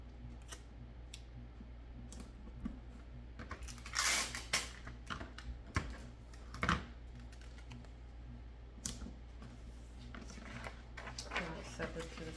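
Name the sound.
taping paper pattern sheets together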